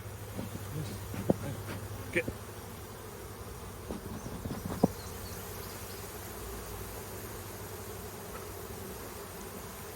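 Honey bees buzzing close around a beekeeper's head during hive work, a steady, faint insect hum with a few sharper passes near the microphone, and a brief spoken word.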